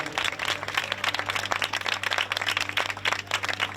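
Dense, continuous applause from an audience at a regional beauty pageant final for the third-place winner, many hands clapping fairly far off over a low steady hum.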